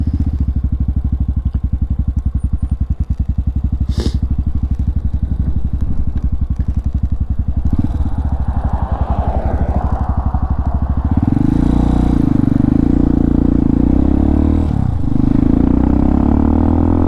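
A carbureted Chinese motorcycle engine idles with a rapid, loping thump and mechanical clatter up close, then rises into a smoother, louder rev for the final few seconds.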